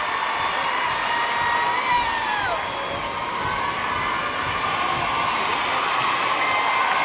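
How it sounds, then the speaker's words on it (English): Arena crowd cheering and shouting steadily throughout a gymnastics uneven bars final at the Paris World Cup, a dense roar of many voices with rising whoops, loud and continuous. "Wonderful support from the crowd."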